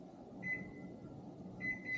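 Whirlpool built-in microwave oven being set and started, with two short bursts of keypad beeps over a steady low hum, fairly close.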